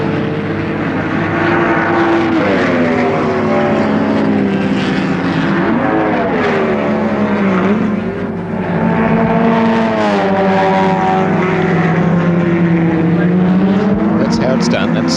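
1973 touring cars racing on a wet, misty Warwick Farm circuit, engines droning and shifting pitch continuously under a race commentator's voice.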